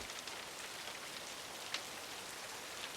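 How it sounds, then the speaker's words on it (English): Steady rain falling on a surface, a dense even hiss of many drops with an occasional louder droplet, soft and continuous with no voices. "The rain releases and falls, raining and seeping into the soil of the earth."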